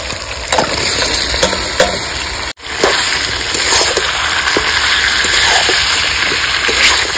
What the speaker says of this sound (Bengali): এবার আমি কেটে ধুয়ে রাখা মাংসটা দিয়ে দেবো।